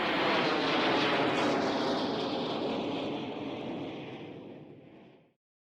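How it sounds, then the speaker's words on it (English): A loud aeroplane engine roars steadily, then fades away smoothly over several seconds as it passes into the distance. "the sound of an aeroplane engine is quite exciting to me"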